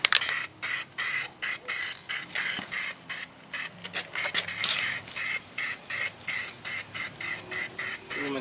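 Spray paint applied to a Dana 44 rear axle in short, close bursts of hiss separated by brief pauses, a little faster toward the end.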